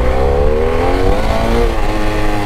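A BMW F800 motorcycle engine revs hard nearby, a loud continuous roar whose pitch climbs steadily as the throttle opens, with no talk over it.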